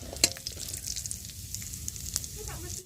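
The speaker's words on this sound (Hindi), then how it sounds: "काजू भाजी होगा" Cashews fry in hot oil with a soft, steady sizzle and occasional sharp pops and stirring scrapes, heard up close and fairly quiet.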